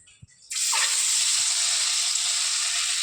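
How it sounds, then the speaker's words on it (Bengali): An egg coated in gram flour batter drops into hot oil and sets off a sudden, steady, loud sizzle that keeps going without a break. "ডিমটা ভেজে নেব।"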